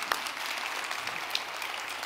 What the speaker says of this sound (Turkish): Vallahi alkışlıyorum ha.